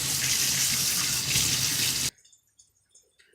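Tap water runs steadily onto a bar of stainless steel soap at a sink, a loud broadband rush that cuts off abruptly about two-thirds through, leaving a few faint drips and small handling sounds.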